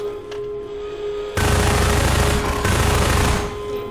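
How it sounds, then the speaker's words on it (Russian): Automatic rifle fire from the Half-Life 2 video game bursts in suddenly as a loud, dense stream of rapid shots with booming low thuds, sustained for a couple of seconds with a brief dip before continuing. "уже все-таки нужно автомат использовать"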